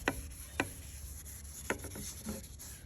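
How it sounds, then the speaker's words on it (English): A damp towel rubs dust off a broken Dean guitar neck in a few short, dry swipes, with quiet gaps between strokes up close. "I just want to get my towel kind of damp. Just kind of rub. Rub the dust off."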